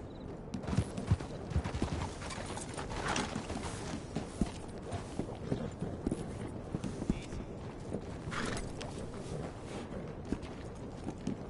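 A horse in Red Dead Redemption Online, a video game set in 1889 America, moves with steady clip-clop hoofbeats under game ambience, and a voice speaks at times.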